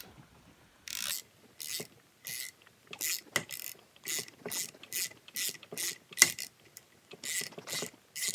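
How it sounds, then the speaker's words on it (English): A ratchet turns during valve stem seal work on an engine. Its rapid clicking comes in short bursts of about half a second, repeated about a dozen times with brief pauses between. The sound is close, fairly quiet and has no talk. "I'm using a ratchet now"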